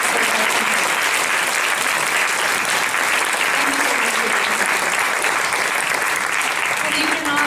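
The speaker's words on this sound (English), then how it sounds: "Please join me in another round of applause for the gentleman who stood." Audience applause at a chorus concert, a dense, steady wash of clapping from a full hall that holds evenly throughout, with brief voices faintly under it.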